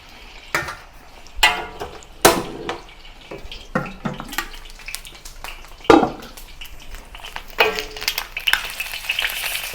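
Pork knuckle sears in a wok for Chinese-style braised pork, crackling and spitting in close, uneven bursts of sizzle with sharp pops, fairly quiet overall and with no talking.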